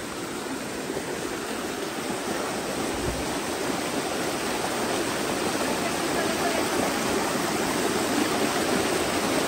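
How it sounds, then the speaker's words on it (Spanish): A river rushes past close by, a dense, steady wash of water that carries on without a break. "El agua."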